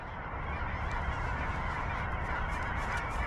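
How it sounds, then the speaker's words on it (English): A flock of geese flies overhead in a big circling formation, honking steadily and loudly in a dense overlapping chorus throughout, with no talk. "I highly doubt this is gonna pick up this beautiful bird formation up here."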